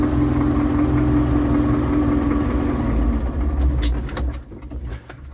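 A YuMZ tractor's engine runs with a steady low rumble, then eases off and turns rougher toward the end.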